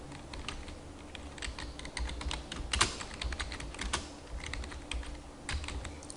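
Steady keystrokes on a computer keyboard while PHP code is entered, a continuous run of quick clicks with a few louder taps, close and alone with no voices.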